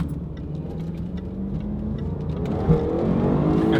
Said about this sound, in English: Bounce that rev limiter.